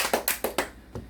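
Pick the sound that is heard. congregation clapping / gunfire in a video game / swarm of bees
congregation clapping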